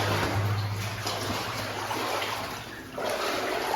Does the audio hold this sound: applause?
no